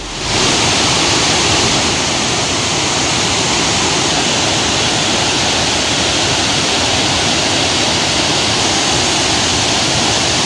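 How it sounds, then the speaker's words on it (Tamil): Swollen water pours over the Eesal Thittu falls and crashes down into a deep valley. It makes a constant, loud, broadband roar that holds steady throughout with no voices. "ஈசல் திட்டு அருவியில் பெருக்கெடுத்து ஓடும் தண்ணீர் 45 ஆழ பள்ளத்தாக்கில் கொட்டும் காட்சி"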